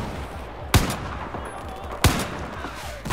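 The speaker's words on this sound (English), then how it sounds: "All the fuckers are shooting at me." Gunfire in the Battlefield 4 campaign on the Kunlun Mountain mission: sharp, loud single shots cracking out about every 1.3 seconds, three in all, over a low, rumbling background.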